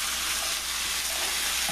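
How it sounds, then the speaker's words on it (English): A vegetable and fish risotto sizzles steadily in a pan while it is stirred, giving a loud, continuous hiss with no voices. "we're not going to waste all this film on watching me stir the risotto"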